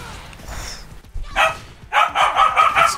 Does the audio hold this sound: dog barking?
yes